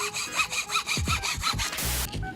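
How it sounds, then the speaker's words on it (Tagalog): A handsaw cuts through a thin piece of wood close by, with quick, rhythmic rasping strokes about four per second, ending in a brief harsher burst. "kaya madali lang lagariin"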